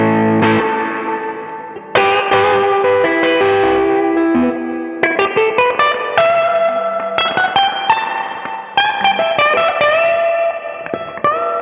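An overdriven electric guitar plays through an amplifier's spring reverb, set to about 75%, with no reverb pedal engaged. Sustained distorted chords and single notes ring out, each attack followed by a reverberant tail, loud and close.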